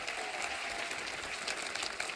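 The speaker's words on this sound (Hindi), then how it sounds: "एक बार जोरदार तालियां हमारे मेहमानों के लिए" Steady applause from a studio audience welcoming guests onto a Hindi comedy show stage, a dense even wash of clapping with no pauses, moderately loud throughout.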